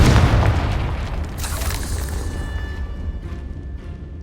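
A Confringo spell explodes in the Hogwarts Legacy video game inside a decayed catacomb: a loud, close boom that rolls into a sustained rumbling roar and slowly fades over several seconds, with no talk.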